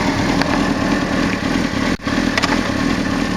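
A motorcycle idles loudly and close by before the rider takes off, a steady low throbbing engine note with a brief dip partway through.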